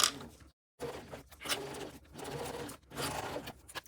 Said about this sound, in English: Back stitching and just following that curve all the way around.